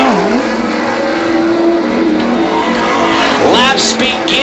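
A race car spins on the front straightaway at Beech Ridge Motor Speedway during a Pro Series race, with a steady engine roar and a rising tire squeal near the end, under continuous loud crowd and track noise.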